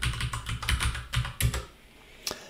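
Someone types a password on a computer keyboard, a quick run of close, crisp key clicks that slows to a pause and ends with one firm final keystroke.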